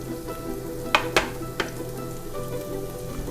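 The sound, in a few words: tiger prawns sizzling as they are added to the pan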